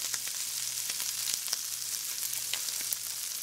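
Chili flakes cooking in a pan, a steady soft sizzle with a low hum underneath and occasional faint pops and ticks, no voices.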